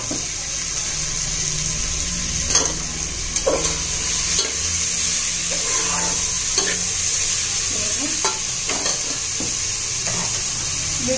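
Chopped vegetables and spring onion frying in a pan for soybean pulao, a steady sizzle with intermittent stirring scrapes and clinks throughout, no talking.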